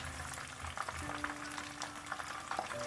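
Small fish deep-fry in hot oil, giving a steady bubbling sizzle with scattered crackles and pops, close and continuous throughout.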